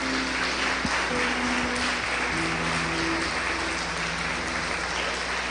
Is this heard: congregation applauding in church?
yes